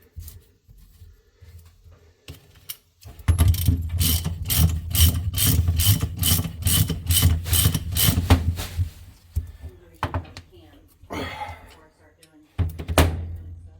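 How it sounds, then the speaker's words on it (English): Matco ratchet wrench tightening oil pan bolts on a 1988 Jeep XJ with an OM617 diesel, giving a loud, fast run of ratcheting clicks in bursts, with short speech and clanks between. "So all I'm using is this really nice Matco wrench."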